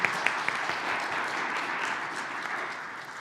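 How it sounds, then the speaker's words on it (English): Steady applause from a crowd, a dense wash of many hands clapping at even loudness throughout. "May I get a round of applause?"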